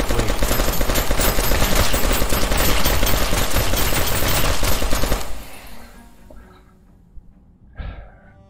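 Rapid bursts of gunfire from the VR shooter game Primal Reign fill the first five seconds loud and dense, then cut out leaving faint rustles and a few short thumps.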